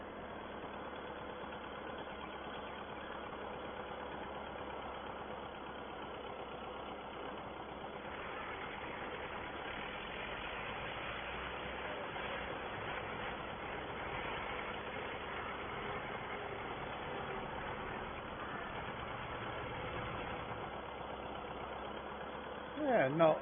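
An old farm tractor engine idles at a steady rumble during a 1951 harvest, chugging evenly at a moderate distance throughout, with someone talking over it on a thin, muffled old recording.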